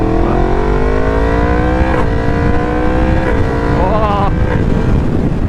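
A close, loud electric scooter exhaust revs and climbs in pitch, shifting several times as it accelerates.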